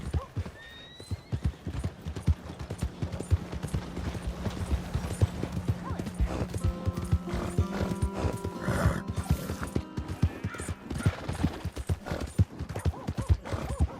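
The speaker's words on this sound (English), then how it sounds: "My horse!" Rhythmic hoofbeats of a horse galloping in Red Dead Redemption 2, with a loud neigh partway through, set against a busy game soundscape.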